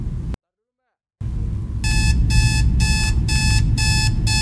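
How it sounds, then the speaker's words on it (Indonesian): In a horror video game set in a motel, an alarm clock rings in rapid, evenly repeated bursts of bright electronic beeping, loud and close, starting after a brief silent gap. "Set alarm dulu."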